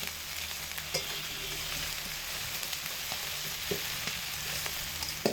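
Spice pastes of ground cumin and chilli sautéing over low heat in a pan, a steady close sizzle with occasional scraping stirs and soft clicks throughout, no voices.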